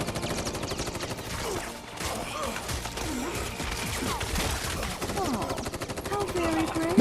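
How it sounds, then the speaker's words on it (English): Rapid gunfire in a Crisis Core Final Fantasy VII cutscene, dense bursts of shots mixed with music and effects, loud throughout, with voices talking over it. "I've never seen anybody shoot a gun"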